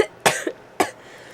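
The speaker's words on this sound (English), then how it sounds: "there's going to be a lot of sniffing and coughing in this video" Two sharp coughs from someone who is slightly sick, close to the mic and about half a second apart, with a small throaty catch between them and a quiet room behind.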